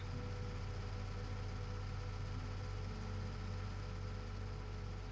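In Farming Simulator 19, a tractor engine idles with a steady, low, droning rumble that stays even and continuous throughout, with no voices over it.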